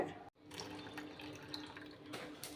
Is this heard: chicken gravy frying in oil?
no